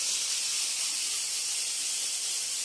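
Ginger water poured into a hot pan for a Bengali-style vegetable dish sizzles with a steady, loud hiss and spatter that holds evenly throughout, with no talk over it.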